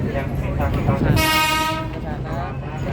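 A train at the Ambarawa railway museum sounds a long horn blast over low rumbling, with the tone holding for about a second before fading, loud and fairly close, while a person talks underneath.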